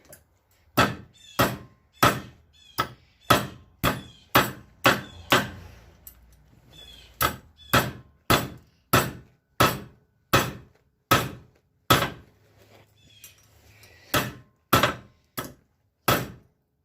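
Metal part being hammered flat on a workbench during an Oldsmobile Cutlass Supreme fuel pressure gauge install: about twenty sharp, loud hammer blows in a steady rhythm, with a short pause midway.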